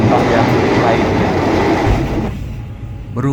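Cabin of the Malabar passenger train, a modified economy car styled as premium, riding between Yogyakarta and Bandung at night: loud steady rumble and wheel clatter that drops away sharply near the end.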